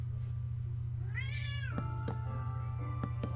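An indoor house cat gives one drawn-out rising meow followed by a few short clicks, close to the microphone over a low steady electrical hum.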